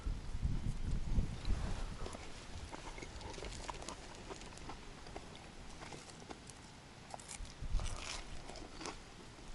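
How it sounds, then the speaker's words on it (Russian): Crunchy bites of smoky campfire bread being chewed outdoors by a river, with irregular crisp crackles and soft munching, loudest at the start and again near the end, with no talking. "Хлеб хрустит, да?"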